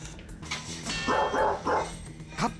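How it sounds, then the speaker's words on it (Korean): Mangchi, an aggressive dog, barks in a quick run of sharp, loud barks close by, followed by a single further bark after a short pause. "한 번 흥분하더니 짖음을 멈추지 않는 녀석"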